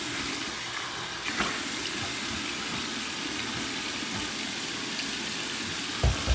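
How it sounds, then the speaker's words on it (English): Tap water runs steadily into a sink for a cold rinse after a shave, a continuous hiss with a few splashes near the end and no talking. "Cold water rinse."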